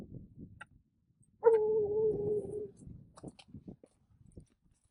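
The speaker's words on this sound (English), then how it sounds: "14-year-old dog right there, Mr. Booger Bear." A 14-year-old hound dog gives a single drawn-out howl lasting about a second, loud and fairly close, with quieter rustling and movement sounds before and after it.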